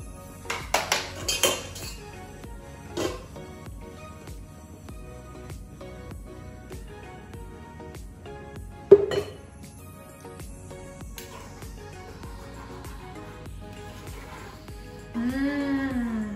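Mole sauce being strained, mostly quiet handling with clinks of pots, pans and metal utensils, a sharp clank partway through and a louder stretch of clattering near the end.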